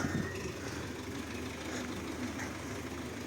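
A tractor engine idling at a distance outdoors, a low, steady rumbling drone that holds even and fairly faint throughout, with no talk.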